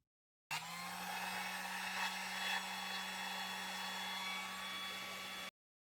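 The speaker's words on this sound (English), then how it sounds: "Slide the individual heat shrink pieces over and use a heat gun." A heat gun blows steadily for about five seconds while shrinking heat shrink tubing over a soldered wire joint for plug-in LED light power, a close, even roar with a constant tone and no talk.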